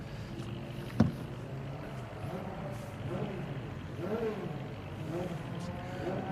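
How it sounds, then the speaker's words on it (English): Ford Fiesta Junior race cars roll out onto the track for a qualifying session near the Melbourne Loop, their engines rising and falling at moderate distance after a sharp knock near the start. "it is time for the Fiesta Junior cars to go out and track"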